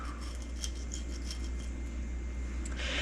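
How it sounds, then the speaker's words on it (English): Defrosted shrimp being cut in half with a few soft, close snips and slicing scrapes over a steady low mechanical hum. "The first step is gonna be cleaning and cutting the shrimp in half."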